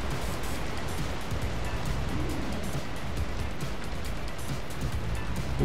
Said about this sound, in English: This is going to be a bit noisy with the waterfall.